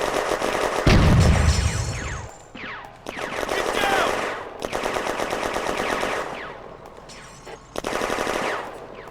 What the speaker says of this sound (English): The Hotchkiss now puts flanking fire on the German machine gun nest.